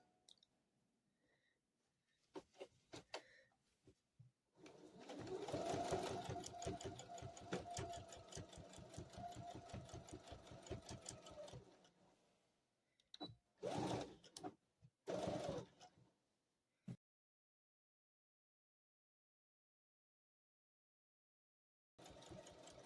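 Stitching a slip cover, a sewing machine rattles through a sustained run of rapid, rhythmic stitches, then fires several short separate bursts with quiet gaps between them.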